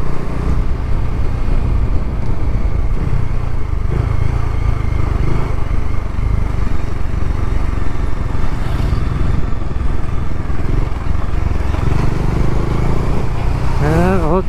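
Motorbikes riding along a widened mountain road near Manali, engines droning and revving steadily throughout at close range with clattering road noise, a brief higher whine near the end.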